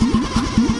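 A Mitsubishi 4G92 car engine cranks and catches in a quick run of close, rhythmic sputtering pulses, loud and brief.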